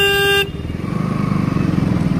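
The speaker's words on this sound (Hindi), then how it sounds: "और ये रही मेरा बाइक" A horn toots briefly and loudly at the start, then a motorcycle engine idles close by with a steady, pulsing putter.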